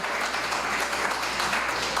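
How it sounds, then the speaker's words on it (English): An audience at a community after-school enrichment awards ceremony in Trinidad gives a round of applause, dense and sustained clapping that holds at an even level for the whole moment. "let's give them a round of applause."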